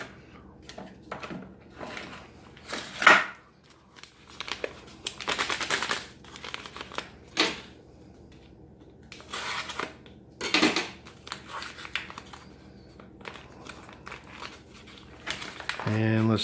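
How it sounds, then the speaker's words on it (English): Packets from a 1996 U.S. cold weather ration crinkle and rustle as iced tea powder is mixed, with irregular bursts of plastic handling and faint clinks close by, quiet stretches in between. "Next up, we'll go ahead and mix up one of our iced teas."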